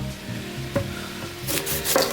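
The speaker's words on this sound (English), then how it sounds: "get some onions on the stove to start caramelizing" Onions cook in a pan on the stove, giving a quiet sizzle broken by a few soft scraping stirs, with no talking.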